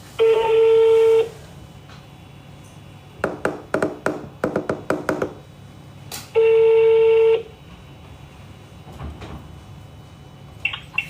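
A phone call being dialed, with two long steady telephone tones separated by a run of quick tapping keypresses, then faint clicks, close and clear with no talking.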